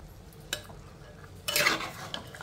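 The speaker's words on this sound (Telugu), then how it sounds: "ఇప్పుడు ఇందులో అలసందలు వేసేసుకుందాము" Black-eyed peas tipped into a pan of brinjal curry and stirred, with a soft clatter, a brief scrape at about half a second, then a louder burst of sizzling and stirring; quiet, close and without talk.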